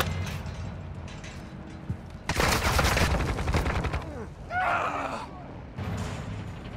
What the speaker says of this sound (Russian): Не понимаю, кто где стреляет